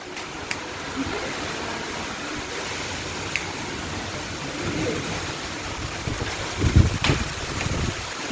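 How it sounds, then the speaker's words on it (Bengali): Storm wind blows steadily during rain, a broad rushing roar with a louder gust building near the end, heard alone with no talking. "ঝড় হচ্ছে ঝড় উঠেছে বাউল বাতাস"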